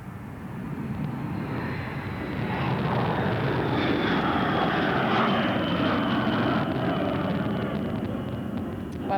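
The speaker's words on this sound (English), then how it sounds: "the first one now is lumbering its way along this runway here, one of the longest runways in Europe" A heavy military bomber loaded with cruise missiles and full fuel rolls down a very long European runway for takeoff, its jet engines a loud, sustained roar that swells and holds.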